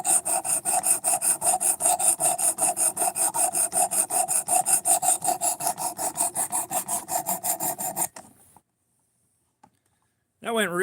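A knife blade is sharpened on a stone with quick, steady back-and-forth rasping strokes for about eight seconds, loud and close. The strokes then stop, leaving near silence before a brief final sound.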